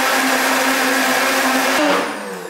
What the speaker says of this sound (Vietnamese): Mình sẽ cho vào máy xay sinh tố để xay cho đến khi nào đậu đỏ của mình nhừ luôn và nhuyễn luôn.